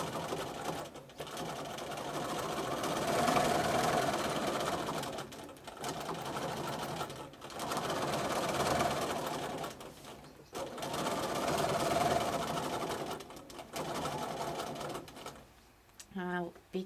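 Steady whirring sewing machine stitching free-motion quilting spirals, running in long bursts with brief pauses between them, close and continuous, with a voice talking over parts of it.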